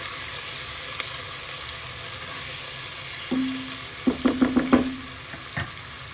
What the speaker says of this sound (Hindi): जिंजर गार्लिक पेस्ट आएगा इसके अंदर, साथ ही भुन जाएगा इसके।